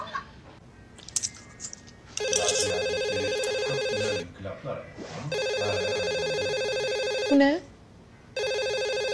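A home landline telephone rings in repeated electronic bursts with short gaps between them, loud and close, while a person asks a brief question and soft background sounds continue.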